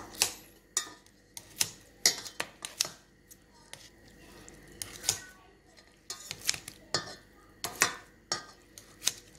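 Chinese cabbage being chopped for a fish and vegetable soup, a steady series of sharp knife taps on a board at an uneven, quick rhythm, fairly quiet and near.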